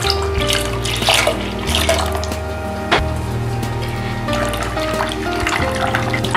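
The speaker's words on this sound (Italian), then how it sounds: "Aggiungo il rimanente latte." Remaining milk is poured into a pot, producing a steady, close liquid stream and splashing that runs continuously throughout, with faint kitchen background under the pour.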